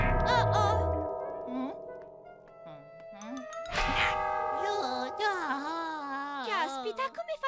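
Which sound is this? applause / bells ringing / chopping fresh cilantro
bells ringing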